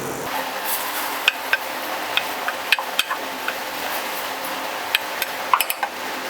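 A spoon scrapes and clinks against a cooking pot while stirring garlic ginger paste for chicken biryani, producing sharp metallic taps at irregular intervals over a steady background hiss.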